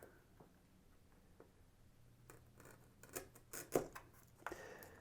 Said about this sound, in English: And then I have my straight edge blade, and I'm going to just trim that.